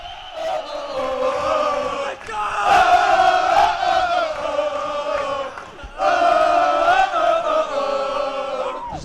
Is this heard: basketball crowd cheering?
yes